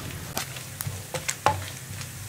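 Coconut pieces frying in hot oil for a Kerala-style beef roast, a soft steady sizzle with a few sharp crackles and spatters popping up across the pan, close and fairly quiet with no talking.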